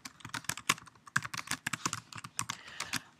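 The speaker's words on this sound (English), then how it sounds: "And I'm going to type" Rapid, uneven typing on a computer keyboard, close and clear, a steady patter of individual key clicks with no talking.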